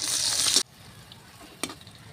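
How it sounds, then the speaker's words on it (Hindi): Chopped onions with green chillies, cinnamon and red chilli hitting hot oil in a pan, a loud close sizzle for half a second, then near quiet and a short stirring scrape. "प्याज लाल होने तक हम चलाएंगे।"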